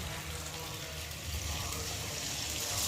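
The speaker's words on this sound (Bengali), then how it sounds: "এখানে গরম জল বসিয়েছি গরম জলটা এখন এর মধ্যে চিকেনে ঢেলে দেবো" Hot water poured into cooked chicken in a pan, a continuous close gush and hiss of liquid running steadily for a few seconds.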